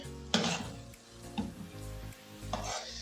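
A spoon scraping and knocking against a pot while sugar is stirred into carrot halwa, giving a few sharp clinks and soft scraping strokes with a faint sizzle underneath.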